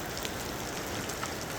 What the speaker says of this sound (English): Really raining.